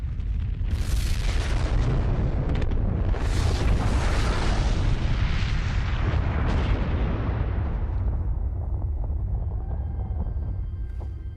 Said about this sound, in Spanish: la única manera de hacerlo es mirando las explosiones más grandes realizadas por el ser humano